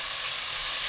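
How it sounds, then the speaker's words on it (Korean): Beef sizzles on high heat in a pot with perilla oil, giving a dense, steady frying hiss that is close and continuous throughout the short moment, with no talk. "냄비에 소고기, 들기름 2큰술 넣고 센 불로 켜서 볶아주세요"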